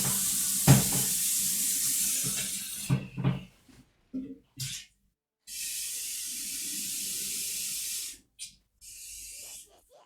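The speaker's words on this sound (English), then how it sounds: "I'm quickly gonna get myself some water." Water running from a tap into a sink in bursts, a close hissing stream that starts and stops several times, with a few clinks and handling knocks early on.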